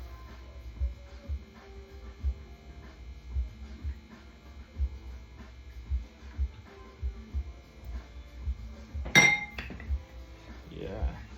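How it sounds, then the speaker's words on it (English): A spoon being cleaned while making a sourdough starter, with scattered metal utensil clinks and light knocks over a low steady hum, a brighter clatter of cutlery standing out near the end. "Clean up the spoon"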